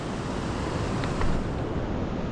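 An alpine waterfall and stream on a mountain trail rush in a steady, dense broadband roar, close and continuous with no voices.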